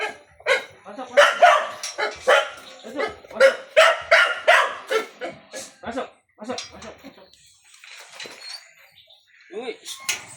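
Two puppies yip and bark in short, rapid bursts close by, with people talking over and between the barks.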